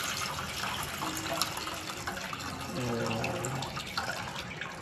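Water runs and splashes steadily as rice for a dum biryani is rinsed in a kitchen, a close, continuous gurgling wash with small sloshes throughout.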